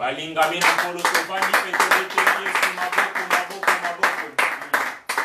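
A church congregation claps together during a Sunday service, producing a run of quick, loud, rhythmic claps close by with voices mixed in.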